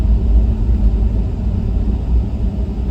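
A 1976 Chevy Malibu two-door hot rod gives off a steady, loud, low engine rumble that holds constant with no breaks and no voices.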